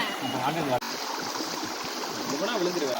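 Water rushing at the Karantha malai waterfall stream, a constant broadband roar with a brief dropout early on, while voices speak over the flowing water.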